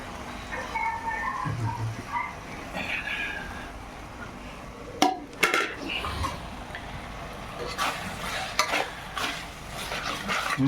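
Tomatoes with spices stirred in a frying pan, a soft sizzle under scraping of a utensil against metal, with several sharp clinks and knocks midway, heard close; faint voices in the background.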